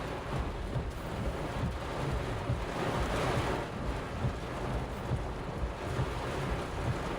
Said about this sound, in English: Get some strong gusts.